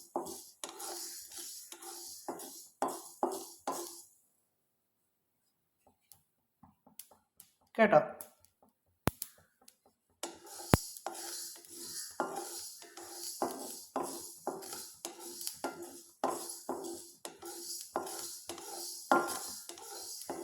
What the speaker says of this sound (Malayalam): കടുക് വറുത്ത് വരുമ്പോഴത്തേക്ക് കടുക് പൊട്ടുന്ന സൗണ്ട് കേൾക്കാം കേട്ടോ.